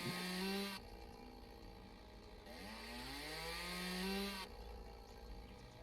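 A chainsaw in the video game Lumberjack Dynasty cuts limbs off felled trees, its engine revving up and down in alternating loud bursts and rising, falling pitch sweeps, close and alone.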